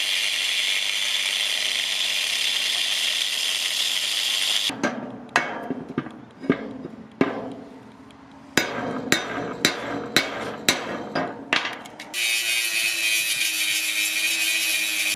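A stub shaft is cut out of a carnival ride with a loud power tool, a steady roar that breaks off into a run of sharp, separate metallic knocks and clanks, then starts up again.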